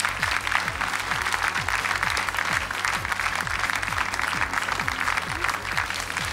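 Studio audience applauding during a televised singing contest gala, steady dense clapping that fills the whole stretch at even loudness, with no voices over it.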